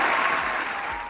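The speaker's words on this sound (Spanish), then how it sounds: "Fuerte el aplauso para Domingo Ayala, por favor." A brief burst of audience applause for Domingo Ayala, loud and dense, from a crowd clapping together, tapering off abruptly at the end.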